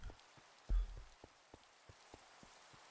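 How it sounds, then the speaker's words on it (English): Steady video-game rain patters on surfaces with scattered drop ticks and one low thump, fairly quiet and continuous with no voices. "The rain continues."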